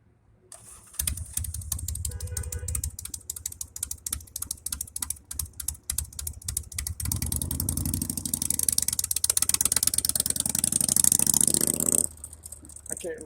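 A motorcycle engine runs on a practice lot during licence-test training, starting up and revving unevenly near the listener, then settling, with voices talking over it at times.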